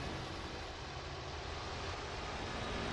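A Bf 109 F-4 fighter engine in the IL-2 Sturmovik game runs at a steady, dense roar while taxiing, constant and unbroken throughout, heard alone with no voices.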